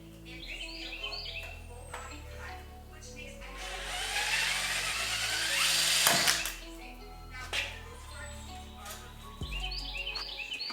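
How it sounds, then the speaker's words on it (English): A broken dash mount on a Subaru GC8 is drilled out with a power drill, a rising, grinding whine of a few seconds cutting through quieter workshop noise, with faint bird chirps outside. "So drilling this one out was cake."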